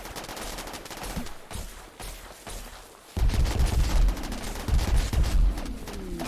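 Colonists fire guns in the video game RimWorld: a burst of sharp shots that grows into loud, sustained gunfire crackling repeatedly over several seconds.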